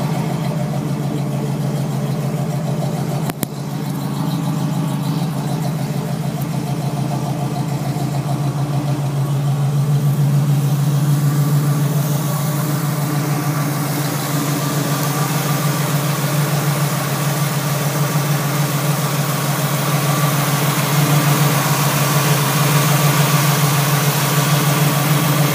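An old-school custom car engine idles smoothly and steadily up close, a continuous low rumble that holds level for the whole stretch, with one brief knock early on.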